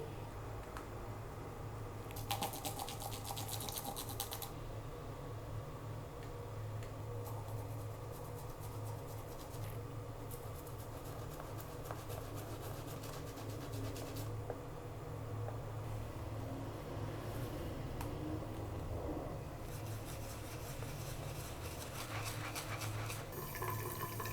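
Running tap water and soft splashing as a makeup brush, a fan brush among them, is rinsed under a sink faucet, a steady close wash with brief louder bursts of water.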